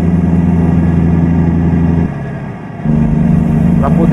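Low, steady diesel drone of a Volvo VNL 670 truck engine in American Truck Simulator, heard from inside the cab with windows closed. It drops briefly near the middle, then the idle hum resumes, with no talk over it.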